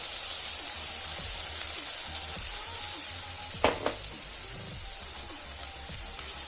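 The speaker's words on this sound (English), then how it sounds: "Now we will add butter in this kadhai, flour, and a cup of milk to make the white sauce." Butter, flour and milk cook in a kadhai for white sauce, giving a continuous soft sizzle and bubbling hiss with occasional spoon scrapes and stirring knocks, steady and close.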